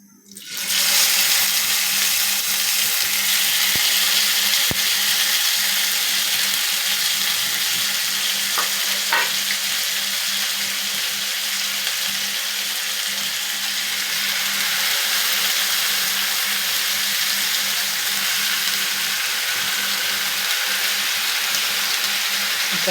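Beef sheek kebabs frying in mustard oil in a pan over a low flame give a steady, loud sizzle and hiss that holds evenly throughout, with a faint low hum beneath and no talk.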